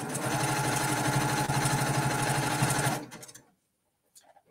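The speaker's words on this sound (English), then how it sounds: "you save it in the software to your home embroidery machine format" A home embroidery machine stitches an applique design with a fast, steady mechanical rattle at close range, then stops abruptly and falls quiet apart from a few faint clicks.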